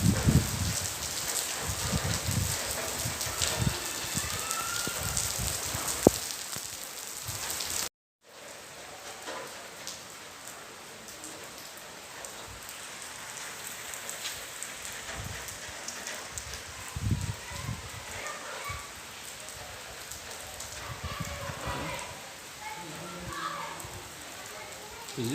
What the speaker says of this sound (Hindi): बारिश आ गई है और वो भी तेज़ हो रही है, मज़ीद मुसलसल तेज़ हो रही है।